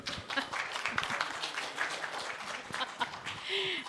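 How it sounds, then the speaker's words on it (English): Quiet applause from an audience at a medical refresher course on living organ donation, with scattered claps at close range and some background murmur. "So, can we have a round of applause?"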